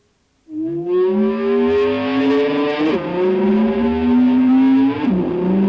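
An electric guitar swells in as the volume control is slowly brought up with the whammy bar pulled fully down, growling like a revving engine, its pitch rising and dipping as the bar works, loud and sustained.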